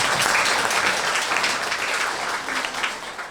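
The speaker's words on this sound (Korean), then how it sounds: "여기 흔쾌히 응해주신 우리 파트너스 분들을 위해서 박수 한 번만 좀 쳐주세요" Audience at a startup seminar for real estate agents applauds the partner agents, a dense, steady wash of many hands clapping that fades slightly toward the end.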